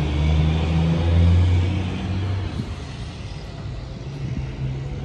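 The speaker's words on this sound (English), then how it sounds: "so you may hear some trucks and stuff in the background." Trucks rumble in the background outdoors near a travel trailer, a low continuous engine drone with a louder swell early on that fades to a quieter steady hum.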